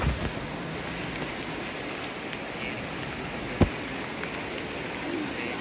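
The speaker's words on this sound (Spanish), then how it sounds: "ahorita sí ya comenzó a llover bastante fuerte y también con viento" Heavy rain and wind sweep through a night in El Salvador as a dense, steady hiss with gusty rumble, and one sharp knock stands out partway through.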